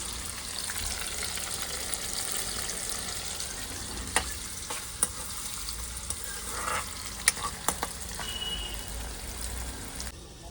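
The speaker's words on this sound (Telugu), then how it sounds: "పెసరపప్పు అయితే వేసేసాం కాసేపు అది ఆయిల్లో ఫ్రై అయిపోయాక" Moong dal frying in oil in a home kitchen gives a steady low sizzle throughout, with occasional sharp clicks and scrapes of a utensil stirring the pan; no one speaks.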